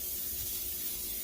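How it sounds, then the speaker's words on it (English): A short, steady hiss of cooking spray hitting a baking pan, close and fairly quiet, with no voices. "you're going to spray this pan."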